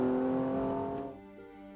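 BMW M235i accelerating on a race track, a smooth harmonic engine note that holds and then fades into a quieter hum, moderately loud with no talk.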